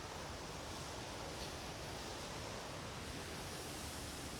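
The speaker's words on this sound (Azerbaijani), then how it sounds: "Gəlib çatmışıq şəlalənin yanına" A mountain waterfall thunders up close in a dense, unbroken roar with heavy spray, constant and loud for the whole stretch with no voices.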